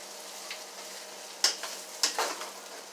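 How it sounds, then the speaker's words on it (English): Corned beef fries in a pan as it is stirred in a Southern home kitchen: a faint, steady sizzle broken by a few sharp scrapes and clicks from the stirring utensil. "as you stir this along the way, the corned beef is going to break up"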